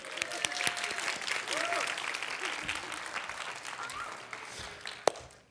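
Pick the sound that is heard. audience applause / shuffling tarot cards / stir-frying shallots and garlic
audience applause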